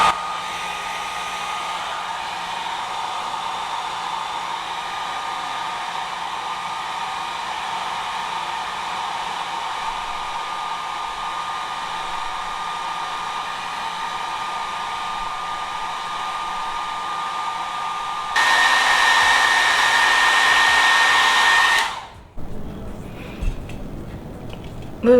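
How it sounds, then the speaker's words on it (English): A handheld blow dryer presses down a glueless frontal lace wig's edges, roaring steadily and close for about twenty seconds, briefly louder on a higher setting, then cutting off into quiet handling noise. "go in that blow dryer just like before and press down"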